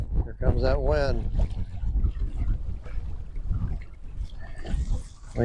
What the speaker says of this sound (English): Here comes that wind.